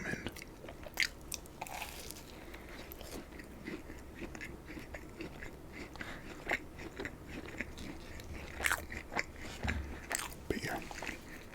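Dunkin' Donuts assorted donuts being bitten and chewed up close, with soft wet mastication and occasional crisp crunches scattered through a steady low murmur.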